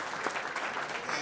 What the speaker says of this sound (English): Let's get a round of applause for the people that donate to the Cedar